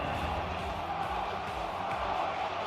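A large crowd at the Evo 2023 fighting-game tournament roars for the Ultimate Marvel vs Capcom 3 top 4, a dense, steady wall of cheering and shouting that stays loud throughout, with voices mixed into the din.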